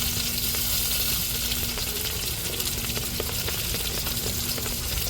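Crab pieces frying in hot oil in a pan, giving a steady, dense sizzle and crackle that holds evenly throughout with no talking.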